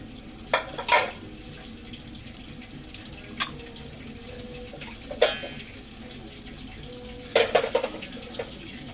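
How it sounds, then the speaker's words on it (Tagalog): Tilapia fish frying in a pan gives a low, steady sizzle throughout, broken by a few sharp clatters and scrapes of utensils, heard fairly quietly with no talking. "Ayan, nagluto na yung tilapia. Prito."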